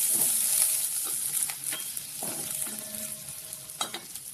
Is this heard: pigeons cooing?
no